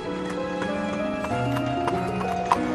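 Hooves clip-clop at an even walking pace over a hard surface, with a faint whinny and steady background tones.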